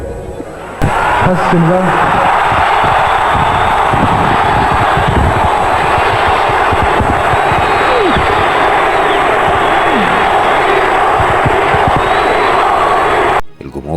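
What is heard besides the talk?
crowd chanting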